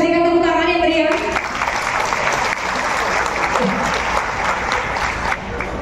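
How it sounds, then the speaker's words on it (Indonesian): Lively audience applause breaks out at an indoor gathering, sustained clapping that starts after a brief moment of voices and continues at a fairly loud, even level to the end. "Kita berikan tepuk tangan yang meriah."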